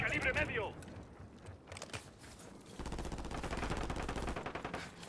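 Rapid automatic gunfire from a Call of Duty match crackles in bursts, dense and sustained through the second half, with game sounds and other noise mixed in.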